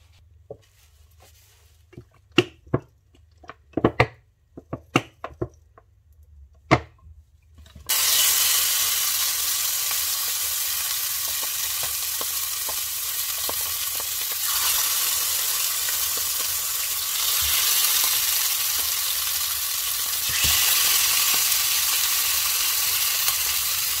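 Chicken pieces frying in a pan for a chicken tagine: a few sharp spatters and pops, then a loud, steady sizzle that fills the rest of the time without speech.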